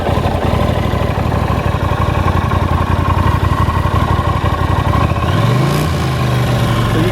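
A 1983 Honda CX 650 Turbo motorcycle engine runs loud and close at a steady, even idle, then rises in pitch as the turbo spools up near the end.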